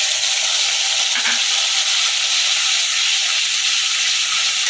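Ginger, green chili and tomato paste hit hot spiced oil in a pan, giving a loud, steady hiss and sizzle that runs unbroken and close throughout, with no talking.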